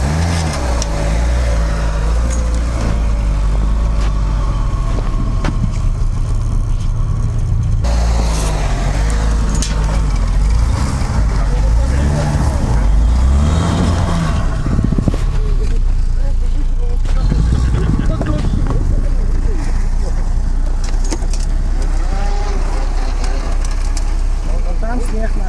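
A 4x4 off-road vehicle pulls away in first low gear, its engine droning loud and steady with deep rumbling and shifting strain throughout, while people talk over it.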